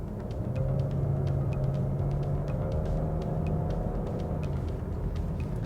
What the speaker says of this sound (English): I'm accelerating from around 50 kilometers per hour to,